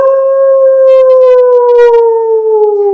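A person's voice imitates a dog howling, one long sustained wavering tone that slowly drops in pitch over about three seconds, loud and close with no talk over it.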